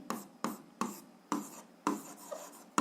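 Pen writing an algebra equation by hand on paper, with six or seven short, close scratching strokes in an uneven rhythm, quiet and alone with no talking.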